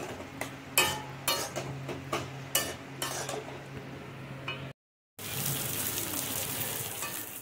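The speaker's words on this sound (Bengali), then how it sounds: "মশলার সঙ্গে একটু ভালো করে কষিয়ে নেব।" Fried potatoes being stirred with spices in hot oil in a pan: a run of rhythmic spatula scrapes and clinks over a low hum, then after a brief cut a steady, bright sizzle of frying.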